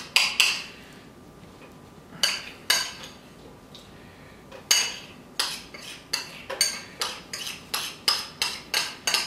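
A knife spreads barbecue sauce mixed with nutritional yeast across slices of bread for a carrot Reuben panini, making a run of short, crisp scraping clicks that come faster and more regular toward the end, close up with no talking.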